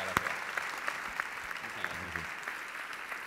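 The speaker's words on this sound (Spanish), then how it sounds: "Aplauso para Audrey." Crowd applause at a sports gala for an athlete named Audrey, a dense rattle of many hands clapping at moderate distance, holding steady for a few seconds before thinning slightly.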